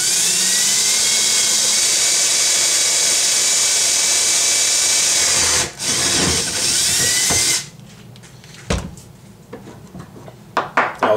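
Drilling a hole through aluminum for an LS turbo oil feed port: a steady, loud high-pitched whine runs for about seven seconds, then cuts off, followed by quieter clicks and handling taps.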